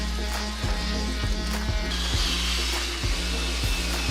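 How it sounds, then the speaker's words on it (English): A power tool grinds rust off a steel trailer steadily with a harsh, dense whir, broken by repeated rhythmic knocks as the tool works across metal. "I need to do is sand off all the rust on the trailer"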